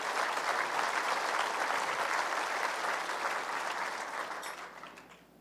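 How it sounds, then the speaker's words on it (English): An audience at a provincial State of the Province address applauds steadily, a dense sustained clapping that holds for several seconds and then gradually thins and fades toward the end. "So please give her a round of applause."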